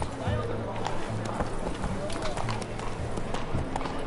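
Roach, a horse in The Witcher 3 video game, gallops in a fast, steady rhythm of hoofbeats under a continuous backdrop of game ambience, with voices talking over it.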